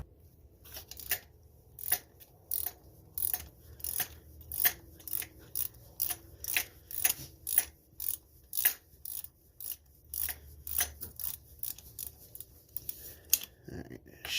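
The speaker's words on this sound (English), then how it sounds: "It's a 3/8 ratchet right into it." A 3/8-inch ratchet loosens the oil pressure switch on a 2005 Chevy Cavalier 2.2, giving a long run of quiet, rhythmic clicking strokes at close range, about one pull per second, with no talk.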